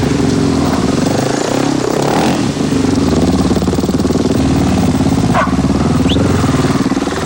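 A KTM rally motorcycle engine runs steadily and loud throughout, a dense rumbling drone with slight rises and dips as the bike is ridden along a road, with no voices.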